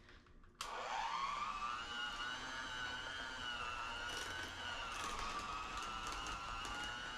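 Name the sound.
electric mixer blending sweet potato pie filling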